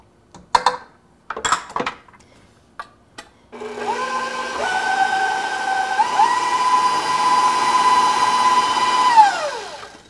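A KitchenAid stand mixer beats cream cheese with cinnamon and vanilla at medium speed, with a steady whirring motor hum that shifts pitch once as the speed changes, after several clinks and taps of utensils on the bowl.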